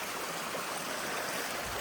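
Rainwater runs through potholes on a flooded village road with a faint, continuous streaming flow, steady and somewhat distant, with no speech.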